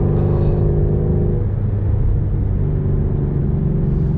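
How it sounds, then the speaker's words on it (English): A Ford Mustang GT350 with a flat-plane crank V8, heard as a loud, close, deep, steady rumble at high engine speed with no talk over it. "This is the best sounding car I have ever heard in my entire life."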